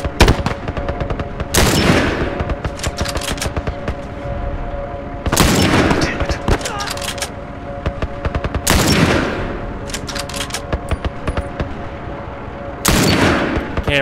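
Repeated gunfire bursts in The Last of Us Remastered, loud and close, arriving in four heavy volleys spaced a few seconds apart over a continuous humming game backdrop with no talk.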